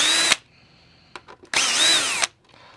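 A cordless power drill backs a screw out of the lid of a SEBO E3 or E2 upright vacuum during repair: two loud whirring bursts that rise and fall in pitch, with a brief click of handling between them.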